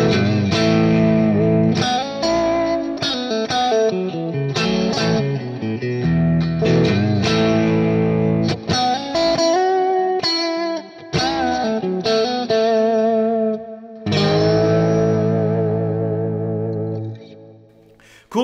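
Electric guitar through a Quad Cortex amp modeler with a cab block using 4x12 and 1x10 cabinets, a loud, driven tone with chorus-like shimmer playing continuous chords and riffs, then fading out.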